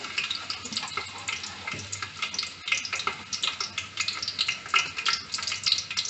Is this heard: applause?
no